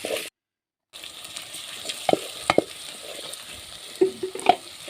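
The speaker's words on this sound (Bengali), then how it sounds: "এখানে আদা রসুন বাটা দিয়ে দিচ্ছি" Ginger garlic paste being added and sautéed in a pan while cooking a meat dish for Eid: a soft, steady sizzle with scattered stirring scrapes and clinks near the mic, after a brief silence.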